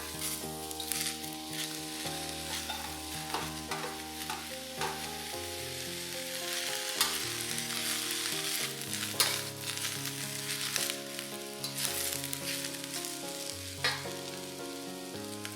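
Shredded cabbage, black fungus and dried lily flowers stir-frying in a hot pan, with a steady loud sizzle broken by repeated scraping stirs and clatters, while music plays underneath throughout.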